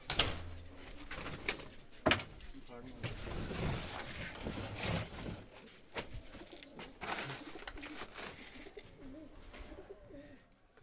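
Pigeons coo in a rooftop loft, a continuous murmur of soft throaty calls with occasional louder bursts and some wing shuffling, close and steady throughout.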